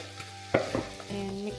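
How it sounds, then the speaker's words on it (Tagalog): Pork and carrots stirred in a pan, a quiet sizzle with a few utensil clacks and scrapes, brief and close, with a faint hum underneath. "And mix lang natin siya at hintayin na maluto ang carrots"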